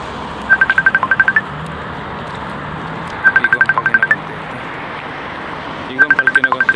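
A WhatsApp call ringing on a phone, three bursts of quick repeated electronic tones about three seconds apart, clear and close above a steady background hum.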